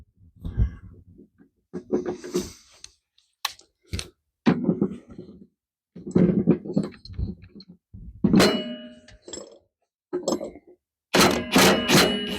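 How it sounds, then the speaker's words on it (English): A pulley is pressed onto the bearing of a Craftsman mower deck, producing a series of dull thunks, knocks and metallic clicks in irregular bursts separated by short pauses. "we're squeezing the pulley against the top of the bearing and not the housing"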